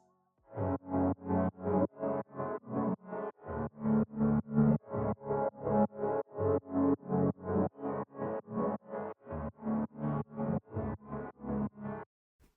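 A hood trap beat loop with steady, evenly spaced hits at a slow halftime pulse, bass-heavy and repeating for about eleven seconds without vocals.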